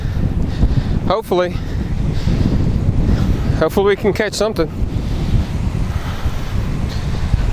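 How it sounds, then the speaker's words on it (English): Strong wind buffets the microphone with a constant roaring rumble on a lake during a crappie fishing trip, while someone speaks briefly in two short bursts over it. "It is super windy,"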